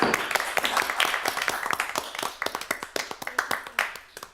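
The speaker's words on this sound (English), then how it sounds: "About another round of applause for Marilyn" A small group at a library board meeting claps steadily for several seconds, sharp individual claps overlapping at close range and thinning out slightly toward the end.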